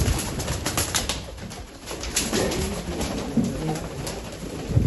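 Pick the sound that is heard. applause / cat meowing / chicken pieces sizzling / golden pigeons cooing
golden pigeons cooing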